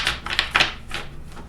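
A deck of oracle-style cards being shuffled up close: a few quick, crisp riffling bursts of papery flicks, bright and snappy, separated by short pauses, with no talking.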